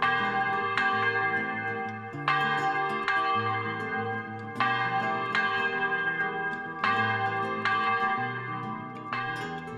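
Church bells of a basilica ring in a slow, repeating sequence of resonant strikes on the Camino de Santiago French Way, each tone lingering and overlapping the next, fairly loud and clear.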